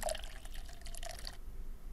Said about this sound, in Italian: Quindi lo versiamo nella borraccia